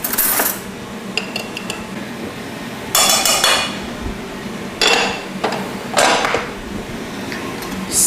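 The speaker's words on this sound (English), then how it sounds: "I'm just going to mix a little butter in there." Metal utensil stirring butter into drained pasta in a hot pan, with several bright scraping and clinking bursts against the pan at irregular intervals over a low background hum.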